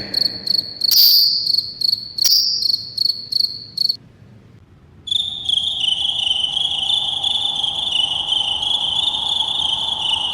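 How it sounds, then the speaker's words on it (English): Crickets chirp in rapid pulsing bursts close by, then a short pause gives way to a denser, continuous high trilling chorus that carries on steadily to the end. "a million crickets rubbed their wings together and sang"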